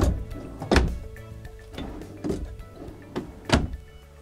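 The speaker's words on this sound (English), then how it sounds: "just with the full length drawers, metal ball bearings" Full-length drawers on metal ball-bearing slides in a 2016 Heartland Bighorn 3270RS fifth-wheel RV are pulled open and pushed shut, giving several close sliding runs, each ending in a soft thunk.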